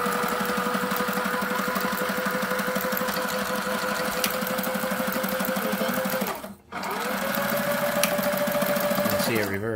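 A Sailrite heavy-duty sewing machine for marine upholstery runs in a steady, loud mechanical whir, pausing briefly partway through before starting again.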